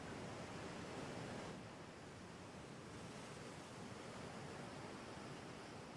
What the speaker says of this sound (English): high quality stereo ocean sounds? Of deep rolling waves for sleeping?